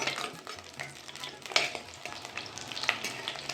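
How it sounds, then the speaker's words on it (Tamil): Brinjal sautés in oil on a medium flame, a continuous crackling sizzle with scraping stirs and occasional clinks of a utensil against the pan. "மீடியம் ஃப்ளேம்லேயே வச்சு நல்லா வேகிற அளவுக்கு வதக்கி எடுத்துக்கலாம்"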